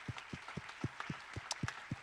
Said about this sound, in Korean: 우리 고3 학생들이 우리 반갑게 한번 우리 박수로 환영하겠습니다